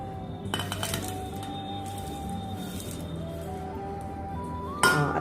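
Lemon pickle spices being mixed in a pot with a spoon, soft repeated scraping and stirring with light clinks of metal on the rim, ending in a sharper knock, quiet and close.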